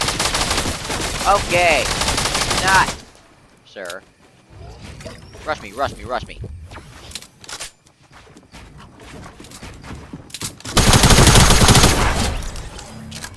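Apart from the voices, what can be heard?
thermal-scope assault rifle gunfire from a video game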